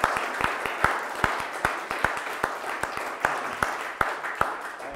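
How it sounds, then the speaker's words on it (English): A small lecture audience at OHSU claps after a talk, with sparse, distinct handclaps landing in an uneven rhythm throughout, fairly close and moderately loud. "Let's have another round of applause for Charles."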